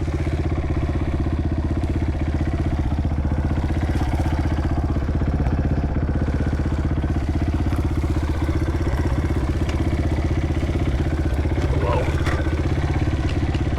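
A dirt bike, a 230, creeping down a trail hill at low speed: a steady, close engine drone at an even pitch that holds for the whole stretch with a faint clatter on top.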